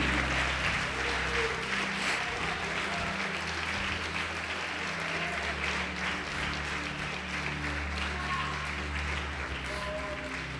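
A church congregation applauding, a dense steady wash of clapping from many hands filling the room, moderately loud and sustained throughout.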